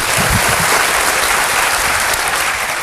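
A church congregation applauds together in a dense, steady wash of clapping that holds loud and even throughout, with low murmurs of voices underneath.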